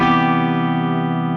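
An electric guitar plays through a dry amp with no echo, ringing out as one sustained distorted chord that decays slowly and stays loud.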